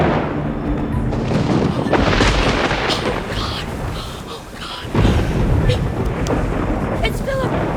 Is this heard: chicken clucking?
no